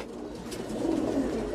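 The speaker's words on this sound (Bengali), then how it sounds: "মাশাআল্লাহ, মানে কবুতরগুলা দেখেন কত সুন্দর।" Pigeons, including black-necked patterned birds, coo softly in a loft at a new house, low rounded calls repeating over a faint background hum.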